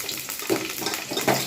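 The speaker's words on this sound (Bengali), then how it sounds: "আলুগুলোকে ভেজে নেব।" Potatoes fry in soybean oil with a brief, steady, close sizzle and a watery bubbling hiss, with no speech.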